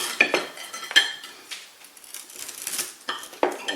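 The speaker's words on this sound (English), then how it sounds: "Now let's cut this cornbread right here." A knife cuts into a pan of onion cornbread, producing scattered close clinks and scrapes of metal against the pan in an uneven rhythm, fairly quiet, with no voices.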